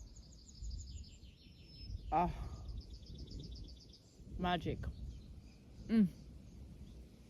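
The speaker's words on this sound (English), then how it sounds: "you can hear the birds, and their kids" High, thin birdsong chirps in quick repeating trills outdoors, with a few soft spoken words and faint rustling in a quiet setting.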